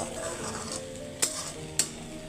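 Young tender okra (bhindi) frying and being stirred in a pan for a home-cooked Bangladeshi lunch, a steady low sizzle with two short sharp scrapes of a utensil against the pan.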